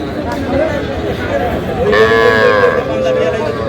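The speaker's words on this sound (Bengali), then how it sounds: "শাহিওয়াল ষাঁড়" A Sahiwal bull at a crowded cattle market, its drawn-out low moo rising over steady crowd chatter and people talking nearby.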